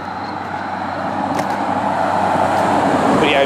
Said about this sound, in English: there's an ambulance right there coming through our town